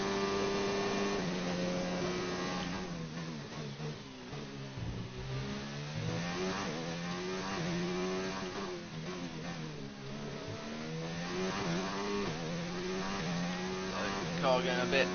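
A Formula 1 car engine in F1 2019 screams down the back straight at Azerbaijan, its pitch climbing through rising gear sweeps and dropping at shifts, loud and continuous throughout.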